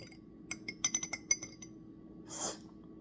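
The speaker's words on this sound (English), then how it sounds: "Whisk that around." A whisk stirs Sucre mousse mix in a bowl, giving a quick run of faint metallic clinks against the bowl, followed by a brief soft rustle, all quiet and close.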